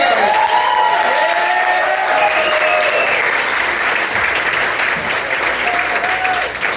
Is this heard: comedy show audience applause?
yes